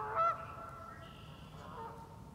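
A loud goose honk up close, then quieter honks and calls from a few geese on the water further off, over faint background hiss.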